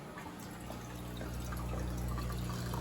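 Weak water flow from a leaking fish tank makes a soft, continuous trickling and pouring wash, steady and close with no voices.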